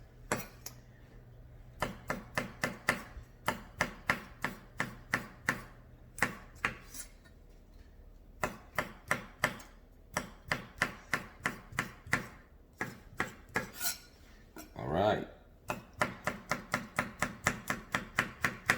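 Rapid knife chopping of tomatoes on a cutting board, steady bursts of sharp taps with brief pauses between runs; a voice speaks a single word near the end.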